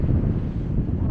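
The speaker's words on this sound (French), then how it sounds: "je sais pas si vous allez m'entendre parce qu'il y a énormément de vent" Strong wind buffets the microphone outdoors at a lookout over a rice mill, a steady, loud low rumble with gusting swells throughout and no voices.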